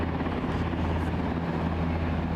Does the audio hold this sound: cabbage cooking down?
no